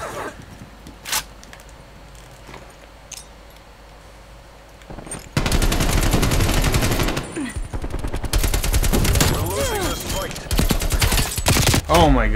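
Heavy automatic gunfire in Call of Duty Cold War bursts in loud and close after a quieter stretch, sustained rattling volleys with a brief pause and another burst near the end, a voice briefly under the action.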